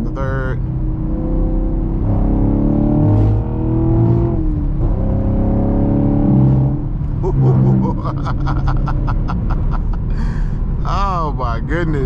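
A Chevrolet Camaro 2SS 1LE engine revs up hard after a downshift to third and climbs in pitch as it accelerates, with people talking over the steady engine roar throughout.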